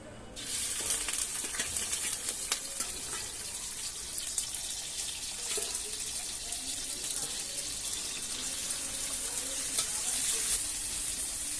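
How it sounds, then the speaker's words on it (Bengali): Prawns fry in mustard oil in a wok with a loud, continuous, close sizzling hiss that holds steady throughout, broken by occasional small pops. "আমি প্রথমে চিংড়ি মাছগুলো একটু ভেজে নিচ্ছি।"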